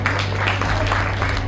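An audience at a talk applauds in a brief, dense wash of clapping that stays steady and fairly loud over a low background hum.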